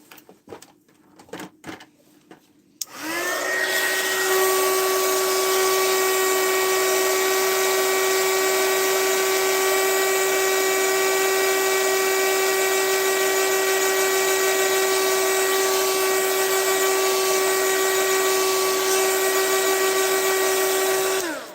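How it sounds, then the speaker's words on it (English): A hot air tool, much hotter than a hairdryer, used to dry watercolor paint: a steady, loud blowing roar with a high whine starts suddenly after a few quiet seconds and runs on without a break. "Even a hairdryer, but this is considerably hotter than a hairdryer."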